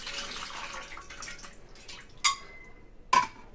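Toor dal lentils are swished and rinsed in water in a kitchen, giving soft splashing at first, then two distinct sharp drips or plops, with no talking.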